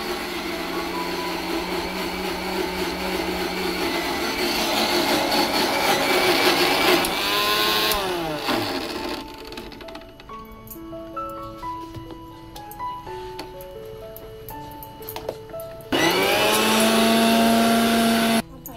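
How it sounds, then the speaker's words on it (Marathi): Loud whirring of an electric mixer grinder grinding spices in stop-start bursts, its motor rising and winding down, then starting again near the end. "आता बाजूला ठेवून मिक्सर लावून या वाटत"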